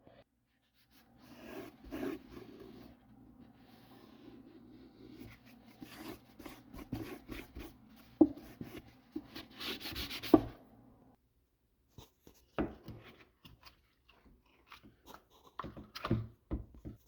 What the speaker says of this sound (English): I'm going to clean off some of the old sealer here, plumber's putty, wipe this dry